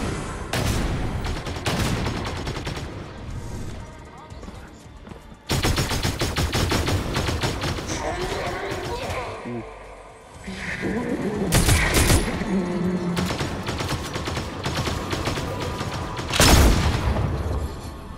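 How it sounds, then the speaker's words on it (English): Automatic and single-shot gunfire in Fortnite during a fight against the overpowered Herald NPC, with dense bursts and booms that fill most of the stretch, pausing briefly before resuming loud and close, with occasional voices underneath. "You can start shooting her right now."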